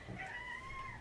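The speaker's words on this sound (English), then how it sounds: "That was my cat meowing off screen." A cat meows off to the side in a kitchen where naan is cooking on a stovetop, one faint drawn-out meow with a slight rising and falling tone over quiet background.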